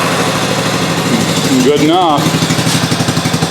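A Honda ATC three-wheeler with a junkyard starter and the choke pulled runs cold just after starting, a steady close putter with a brief revving rise in the middle, under a man's short remark.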